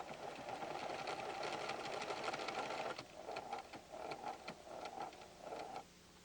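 A PFAFF creative 7550 sewing machine stitches a cross stitch with a fast steady motor whir and needle clatter, running continuously, then in short bursts separated by brief pauses, close and quiet with no talk.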